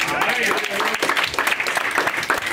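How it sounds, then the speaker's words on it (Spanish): Church congregation breaking into loud applause, dense clapping heard close, with shouts and voices mixed in throughout the brief burst. "Denle un fuerte aplauso al Señor"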